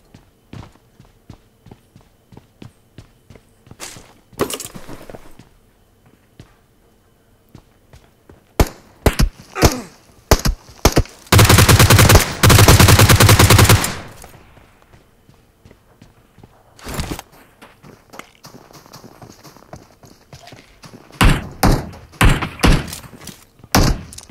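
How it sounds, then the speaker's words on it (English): Several gunshots ring out in a video game as loud, sharp bursts in clusters, with one sustained dense volley in the middle, separated by quieter stretches of small thuds and clicks. "Multiple shots, they don't know where they're going."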